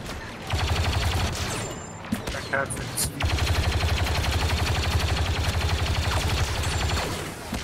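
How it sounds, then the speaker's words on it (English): Rapid, continuous blaster fire in a Star Wars Battlefront 2 battle, loud and rhythmic with a short break and scattered impacts, while a voice talks over it. "nothing like the sound of blaster fire to truly get a man going"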